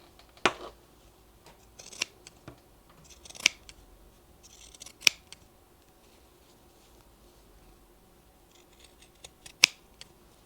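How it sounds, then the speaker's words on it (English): Pinking shears snipping around the curves of fabric for an oven mitt: sharp, isolated crunching cuts spaced a second or two apart, close and clear over a quiet room. "I'm just going to grab the pinking shears and I'm just going to go ahead and just cut the curves"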